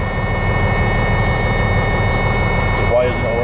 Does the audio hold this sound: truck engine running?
yes